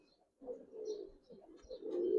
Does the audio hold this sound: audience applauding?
no